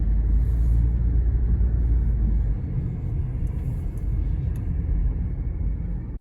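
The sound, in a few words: car driving into a parking spot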